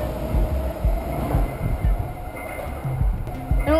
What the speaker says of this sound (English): Now, the BART trains are not exactly quiet, and they can be very frightening for a dog